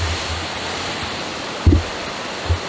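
Steady broadband rush of a waterfall in the Georgia woods fills the whole stretch, with two brief low thumps breaking through near the end.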